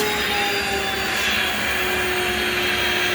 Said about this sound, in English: I am going to continue to clean. So what's neat about this is I still have suction, Mr. and Mrs. Jones.